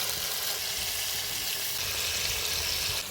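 Tomato with dried chilli, cardamom, cinnamon, cloves, bay leaf, turmeric, chilli powder and salt frying in a pan, giving a steady, close broadband sizzle that holds evenly throughout with no talk.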